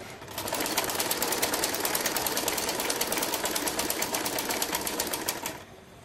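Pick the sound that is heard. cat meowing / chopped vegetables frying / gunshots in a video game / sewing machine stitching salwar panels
sewing machine stitching salwar panels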